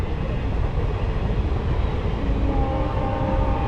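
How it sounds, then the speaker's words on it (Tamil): A train rolls past near Aathichanallur on the Tiruchendur line, a steady loud rumble of wheels and wagons filling the whole stretch with no voices over it. "இது அடுத்த ட்ரெயின்"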